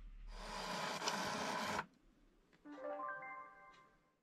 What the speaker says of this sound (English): Just a case of printing these out.